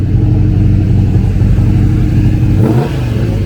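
A 1971 Hemi Charger V8 at a car show rumbles loudly and steadily, then revs up sharply near the end before settling back to a deep idle.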